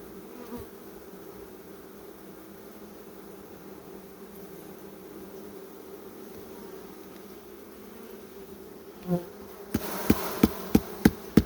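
Honeybees buzz in a steady, moderately loud drone while a hive is opened for a winter inspection, with a few sharp knocks of frames or tools near the end and no talking.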